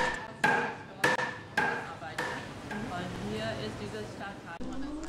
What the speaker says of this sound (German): flache Goldsteinchen rein nur mit Manneskraft und schweren Hämmern dünner und dünner geschlagen